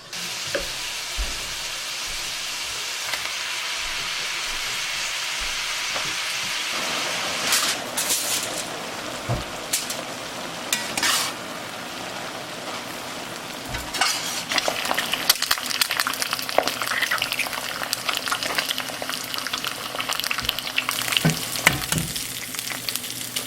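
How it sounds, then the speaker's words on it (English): Two ham steaks sizzle steadily in a hot pan on a farmhouse stove, a continuous close frying hiss with occasional stirring and utensil clatter, no talking. "I'm going to cook these 2 ham steaks"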